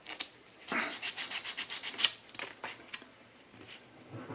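Plastic part from a HobbyBoss 1/16 scale Tiger I tank kit being sanded by hand, a close run of quick, even rasping strokes followed by a few slower, fainter rubs.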